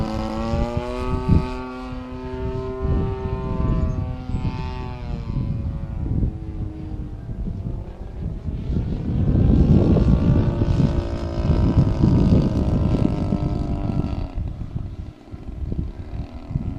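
An Extra 260 model aircraft flying on a windy day, its propeller engine whining with pitch sweeping up and down as it passes, then a louder, rougher rush of power and wind, nearby and continuous with no talk.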